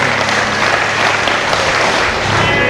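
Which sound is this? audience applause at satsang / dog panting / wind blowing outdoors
audience applause at satsang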